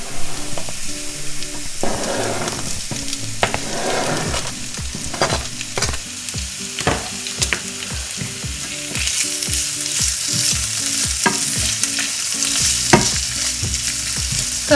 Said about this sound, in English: so we've got our sizzle. The herbs and garlic are doing their thing.